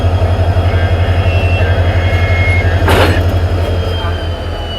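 A diesel banker locomotive engine on a ghat section drones steadily and loudly with a deep, pulsing rumble, a brief hissing burst rising midway through.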